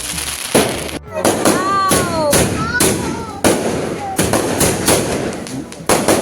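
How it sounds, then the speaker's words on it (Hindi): Firecrackers go off outdoors at night by a roadside, sharp cracks and thumps at irregular intervals with a few whistling, rising streaks between them, while people talk nearby. "हम लोग फोड़ने गए थे यहाँ पे पटाखे बाहर"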